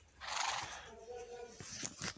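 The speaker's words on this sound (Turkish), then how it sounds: "Şimdi atımızı çağırıyoruz arkadaşlar." A horse neighs in the Minecraft video game, a rising whinny that swells at the start and then trails off over soft background noise.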